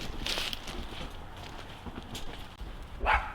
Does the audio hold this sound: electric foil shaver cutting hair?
no